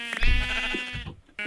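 A single close, loud sheep bleat from Minecraft, a wavering nasal cry lasting about a second before cutting off, followed by a brief trailing sound.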